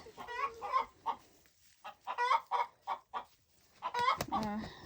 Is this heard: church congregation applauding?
no